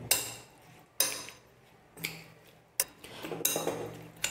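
A salad with soy and chili sauce being mixed in a bowl, a few separate clinks and scrapes of a utensil against the dish at irregular intervals, close and quiet with silence between.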